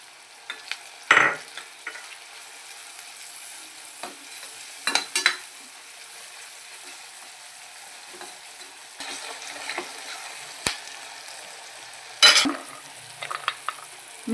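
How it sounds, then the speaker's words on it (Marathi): Chickpeas for ghugri chana fry with spices in a pan under a quiet background, broken by a few sharp stirring scrapes and clatters of a spoon against the pan, close by with long gaps between them. "चला आता आपण हे चणे यामध्ये टाकलेले."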